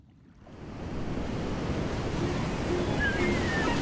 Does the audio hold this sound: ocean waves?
yes